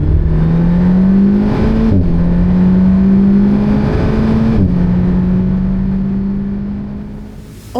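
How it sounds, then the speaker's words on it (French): Alpine A110S gendarmerie car's engine droning loud and close on a race track, its steady tone rising through two gear pulls with brief dips at each shift, then easing off toward the end. "Embarqué avec une Alpine A110S très spéciale, celle de la gendarmerie, pilotée par le gendarme Franck."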